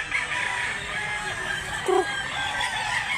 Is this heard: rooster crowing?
yes